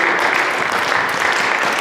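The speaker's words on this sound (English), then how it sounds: "Give him a big round of applause for his participation." Audience applause at a construction company Christmas party, a steady wash of clapping hands rising for a participant, dense and continuous for the short stretch without a break.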